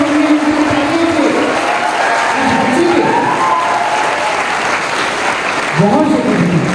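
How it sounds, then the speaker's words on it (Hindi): A school prize ceremony for Class 10 and 12 toppers at Shanti Niketan Public School, Tehra, Agra, fills with steady, sustained applause from a large crowd, with voices and scattered cheers rising over the clapping throughout. "मंच पर तालियां बजनी चाहिए"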